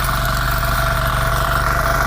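A tractor engine ploughing a field drones loudly and steadily up close, a constant low rumble with no pauses.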